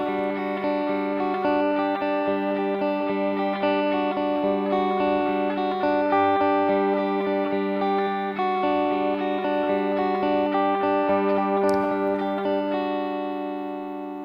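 A sustained chord played through the Elevate modulation effect at full depth with a sine wave LFO, the held tones swelling and wavering steadily for about fourteen seconds with faint repeated pulses, no talking.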